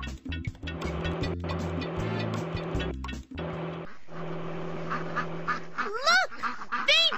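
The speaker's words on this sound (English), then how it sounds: "Look, baby ducks, los patitos. Those baby ducks are blocking the road." Baby ducks quack repeatedly in a Dora the Explorer cartoon game, with quick bursts of small quacks over a bright game soundtrack, followed near the end by a few rising, warbling cartoon effect sounds.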